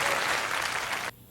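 A concert crowd at a show at the BBC Paris Theatre applauds loudly and steadily, then cuts off abruptly near the end.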